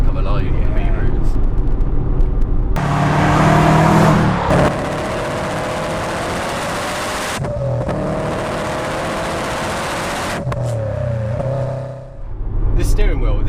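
A Subaru Impreza WR1 drives and accelerates along a B road, its engine note rising and falling loudly close by, with talk running over much of the drive.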